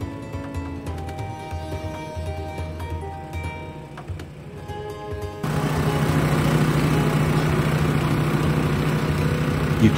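A Yamaha snow blower engine runs while its blower throws snow, a steady mechanical drone that jumps to a louder, denser roar partway through and holds there, close and continuous with no talking.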